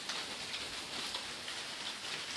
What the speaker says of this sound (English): from the hail that's coming in.